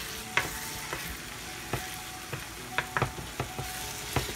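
Eggs and nopales, seasoned with salt and dried oregano, are stirred in a sizzling frying pan: a steady close sizzle broken by a series of sharp spatula scrapes and knocks, with no talking.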